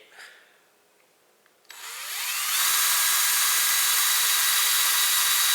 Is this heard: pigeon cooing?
no